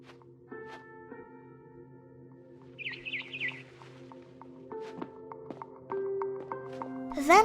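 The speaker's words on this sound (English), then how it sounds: "Then I heard chirping outside my window. It was a barn swallow going back to her nest." Short barn swallow chirps and a quick warbling trill over a quiet tonal soundtrack in the game What Remains of Edith Finch, ending with a brighter rising twitter.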